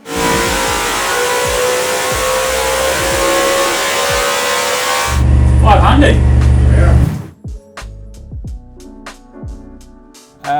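A Toyota 1UZ V8 Superstock engine makes about 500 hp naturally aspirated on a dyno at a motorsport shop, holding a loud steady roar, surging harder, then cutting off abruptly to quieter clattering and clanks.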